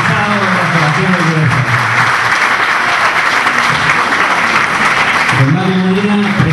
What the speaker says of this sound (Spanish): Un gran aplauso a los invitados y hasta el organizado de la asociación de